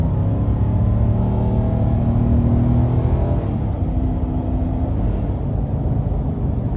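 Cabin view of a 2024 Nissan Titan XD PRO-4X pickup picking up speed toward highway pace, with a loud, steady low engine drone and road rumble and a slight rise in engine pitch partway through.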